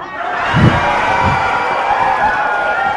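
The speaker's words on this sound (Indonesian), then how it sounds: "Waduh, langsung yang sorakin banyak kan?" Live audience at a comedy-style talk show erupting into loud, sustained cheering and whoops, a dense crowd roar that fills the space with some laughter mixed in.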